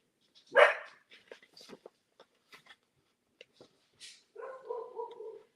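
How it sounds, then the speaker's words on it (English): Several pet dogs bark at a knock on the door in a house at night: a loud nearby bark, then scattered sharper barks and yips, and a sustained howling, whining bark sequence at the end. "My dogs are going crazy"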